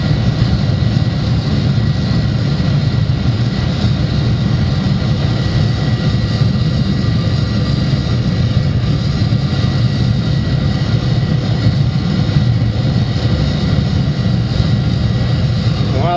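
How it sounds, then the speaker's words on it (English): A steady, loud roar like a small jet engine from a gasification boiler, continuous and unbroken, with a deep rumble underneath and a broad hiss on top. "Sounds like a small jet engine running."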